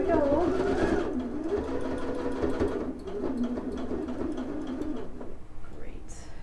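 A sewing machine stitches steadily down the side of a fabric body for about five seconds, a close rapid mechanical whir, with pigeons cooing softly in the background before the machine stops.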